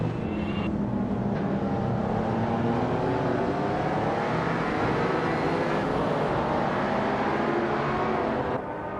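A pack of race cars launches off the line in a racing video game, engines revving hard in a loud, steady, layered roar with shifting pitches lasting the whole stretch, up close and free of speech.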